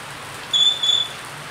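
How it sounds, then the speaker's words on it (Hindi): A steady hiss of rain falls throughout on a rainy evening, with a brief high whistle-like tone rising over it midway, and no talk. "देखो बारिश"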